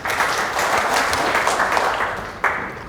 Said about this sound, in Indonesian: Sekali lagi kasih tepuk tangan untuk Tuhan.